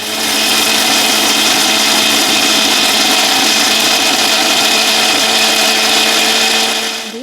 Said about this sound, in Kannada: ಮಿಕ್ಸಿ ಜಾರಿಗೆ ಹಾಕೋದ್ರಿಂದ ನಾನಿಲ್ಲಿ ಕಲ್ಲುಪ್ಪನ್ನ ಹಾಕ್ತಾಯಿದ್ದೀನಿ